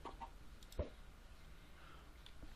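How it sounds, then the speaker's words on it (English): Chickens in the Minecraft video game give soft, faint clucks riding in minecarts, a few brief calls with a small click amid quiet background sound. "Oh, I got chickens in my minecarts."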